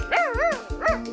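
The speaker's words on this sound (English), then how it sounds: "and that's my dog, Trey." A cartoon dog on the beach at Lyme Regis, England gives two quick, high, yipping barks, close and clear, with a short pause between them.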